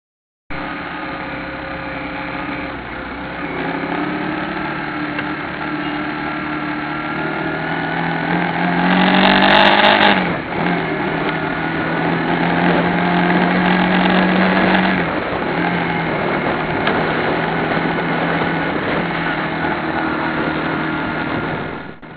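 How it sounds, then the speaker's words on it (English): Motorcycle engine recorded on an action camera while riding, a continuous close engine drone with wind rumble that swells and shifts pitch through a gear change around the middle, then settles into a steady cruise. "The first sample is the one I took while riding my motorcycle"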